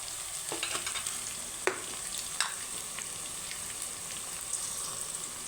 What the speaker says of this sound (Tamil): இதுனா வெங்காயம் பார்த்திங்கன்னா வதங்கிடுச்சு போதும்